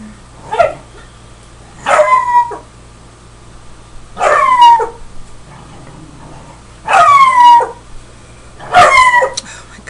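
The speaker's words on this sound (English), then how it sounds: "The dogs have to pick this moment to get crazy." Dogs bark and howl in loud bursts about every two seconds, yelping rises trailing into whiny howls, close to the recorder indoors with a faint hum between.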